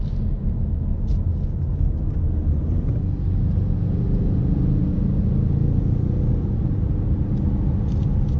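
A 2018 Ford Mustang EcoBoost driving in sport mode gives a steady, loud low engine drone and road rumble from inside the cabin, continuous with no speech.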